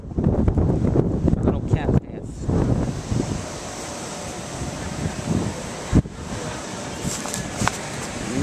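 Wind buffets the microphone in rough gusts on a cold night at the Seaside Heights shore, with a broad rushing roar that calms and swells, and talk woven through the noise.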